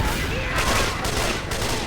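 Gunfire and a pipe bomb in the zombie shooter Left 4 Dead 2, heard as a dense, continuous burst of shots and blasts filling a short stretch, loud and close, with no clear gaps between reports.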